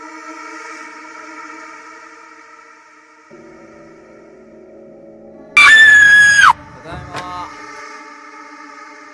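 A woman in a horror film lets out a loud, piercing scream, a sudden high wail lasting about a second that breaks through a quiet, tense droning score, with a shorter cry following.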